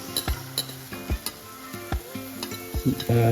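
Onion, pandan leaf and curry leaf hit a hot pan with a close sizzle, broken by several clinking, scraping stirs of a utensil against the pan across a few seconds.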